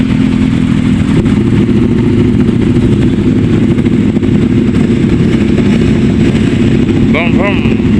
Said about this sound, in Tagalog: Shoutout sa mga big bike, sa mga naka big bike yun.